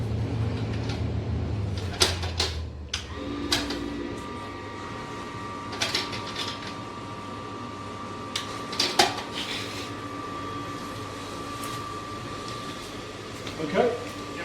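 Metal fittings clank as a heat exchanger is set up in a brewery, with sharp scattered knocks and clatters, some close and loud, over a steady mechanical hum.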